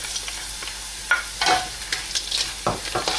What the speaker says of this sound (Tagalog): igisa lang nating maigi ito hanggang sa medyo malambot na yung carrots